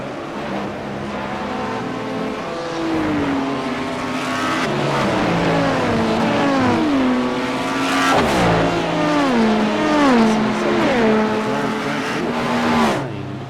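Hypercar and race car engines in a racing video game rev and shift continuously, rising and falling in pitch as cars run nose to tail, loud and steady throughout.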